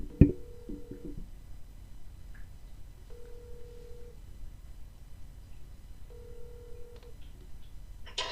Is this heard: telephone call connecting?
yes